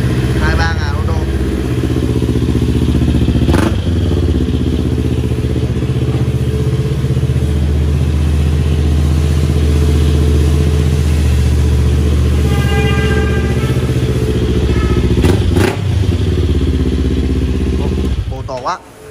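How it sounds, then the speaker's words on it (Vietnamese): A motorcycle idles loudly close by, its deep rumbling exhaust steady throughout, with a couple of brief revs and a short horn-like toot. "Con này bô hơi to nha"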